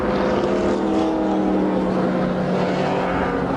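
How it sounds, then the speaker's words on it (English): A naturally aspirated V12 race car engine on the 1985 IMSA Riverside circuit, a loud sustained roaring drone with a steady harmonic whine, close and continuous as the car runs past. "Normally aspirated V12 engine pulling that white and green car,"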